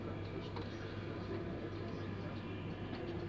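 An LNER 225 train pulling out of Doncaster station, heard from inside as a steady, continuous rumble and hum of the moving train with no distinct breaks.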